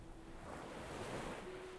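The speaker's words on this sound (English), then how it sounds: "when you're sitting down there listening to all of that, those two things, wind and water" Ocean waves wash steadily onto a beach under gusting wind, making a continuous, broad surf roar with soft wind noise on the microphone and no voices.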